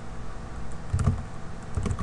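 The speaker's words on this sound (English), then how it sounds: "now I'm just gonna type in here" Keys are tapped on a computer keyboard in a series of soft, irregular clicks with a couple of slightly louder bursts, heard fairly close over a low background hum, with no talking.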